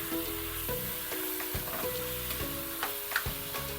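Half a kilo of liempo pork belly frying with softened onions in a pan, a soft continuous sizzle broken by repeated light clinks and scrapes of stirring.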